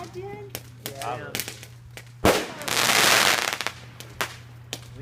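Firecrackers and small bombs explode in a New Year bonfire: one sharp bang, then about a second of dense crackling bursts, with scattered pops and people talking nearby.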